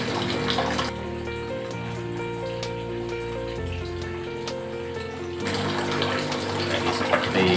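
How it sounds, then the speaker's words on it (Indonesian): Aquarium powerhead pump churns water to make aerator bubbles in an arowana tank, a steady close gurgling wash with a low motor hum whose pitch shifts partway through, no voices. "yang satu untuk khusus untuk membuat arus atau gelembung aerator seperti ini"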